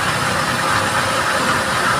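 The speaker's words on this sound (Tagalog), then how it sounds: "automatic off itong makina guys, yung water pump" A water pump motor runs with a steady, loud mechanical whir and hiss, continuous and unchanging from start to end.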